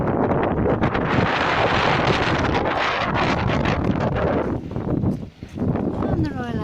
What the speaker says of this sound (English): It's cold and windy.